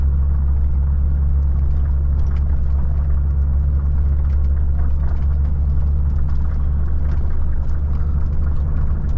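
A Volvo FH 540 truck climbs an icy hill on the Lena highway at half throttle in eighth gear, its engine a steady, loud low drone with a constant rumble heard from inside the cab.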